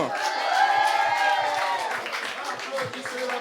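A slam poetry tournament audience in Nice cheers and applauds a poet after her scores are read, a dense wash of clapping and shouting voices filling the room at steady loudness for a few seconds.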